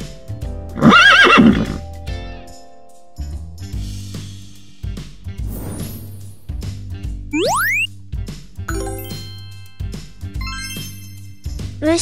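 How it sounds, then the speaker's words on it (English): A loud horse whinny rings out near the start, then light hoof clip-clops, playful boing and chime effects, and a rhythmic bouncy beat continue. "Horse."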